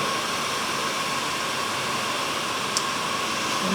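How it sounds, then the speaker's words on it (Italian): Steady, loud whoosh of a heat gun blowing hot air, constant and unbroken, with one faint click near the end. "Se voi non avete il phon termico, usate un phon caldo per capelli"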